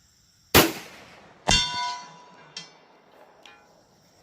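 Bullets from a .450 Bushmaster Mossberg Patriot rifle strike a steel target at 400 yards: four sharp, separate metallic clangs, each ringing briefly before it fades. The first hits are loud and the later ones softer.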